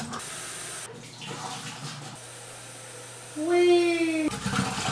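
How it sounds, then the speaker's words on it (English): Running water rinses a film developing tank at home, a steady close hiss and splash from a tap, with a voice speaking over it and a brief rising tone as the flow changes. "The instruction says this needs to be washed for 7 minutes of running water."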